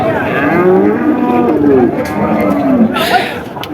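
A bull moos repeatedly in long, drawn-out calls at a busy livestock market in Maijpara, Narail, with crowd chatter and other cattle sounds close by.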